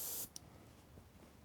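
A dual-action airbrush gives one short, bright hiss of air right at the start, then cuts off and leaves only faint room noise.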